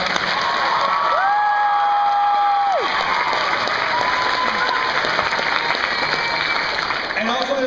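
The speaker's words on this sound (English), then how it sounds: "let's have a round of applause for Shadow Mountain" A crowd at a book launch party applauds loudly, with cheering, whoops and excited shouts from children mixed in, while a few voices carry through the steady clapping.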